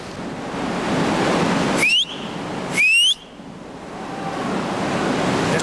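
Sea surf crashing against cliff rocks, a loud continuous roar of surging water, broken by two sharp rising whistles blown as a lookout's warning.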